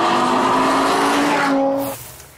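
A G-Power tuned BMW M5 runs hard at high speed on the autobahn, its engine a loud sustained roar with a steady tonal whine that drops and fades near the end, with no talk over it.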